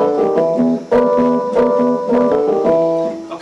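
Blues piano in a 1960s style, a short repeating two-part measure with rhythmic chord stabs over a steady low bass figure, close and clear with no talking.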